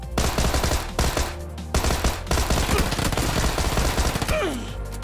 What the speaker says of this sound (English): I shot the guy a million times and he didn't fucking die